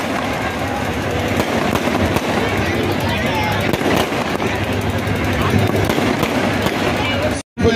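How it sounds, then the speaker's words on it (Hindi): Fireworks and firecrackers crackle and pop continuously in a dense, loud barrage at a Ramlila ground in Moradabad during Ravan burning, with a voice talking over the din. "पटाखों की बरसात हो रही है। बहुत सुंदर नजारा हो रहा है"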